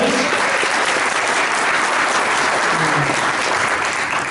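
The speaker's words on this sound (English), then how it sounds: "Let's give him a big round of applause." Steady, dense applause from a convention audience, loud and sustained for the full stretch with no break, a broad wash of clapping hands and no voice standing out above it.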